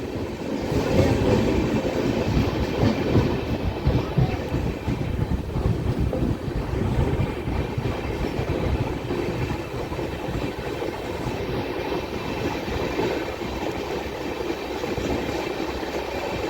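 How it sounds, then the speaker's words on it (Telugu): A passenger train near Gudlavalleru, Andhra Pradesh, rumbles steadily along the rails, a loud, continuous, close-up roar with rattling wagons and some wind buffeting throughout. "గుడ్లవల్లేరు తర్వాత మన ట్రైన్ ఆగేది పెడన రైల్వే స్టేషన్లో అండి"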